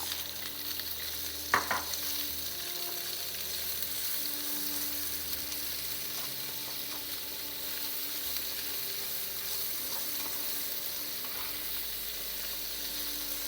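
Sliced carrots and peppers sizzle and fry in a pan for chicken cacciatore, a steady close hiss with an occasional stir or scrape, no talking.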